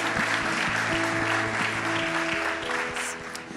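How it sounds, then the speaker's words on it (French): A congregation at a French-language healing and prophetic church service claps together, a broad, sustained wash of applause heard over steady background organ or keyboard tones. "On peut les applaudir ensemble."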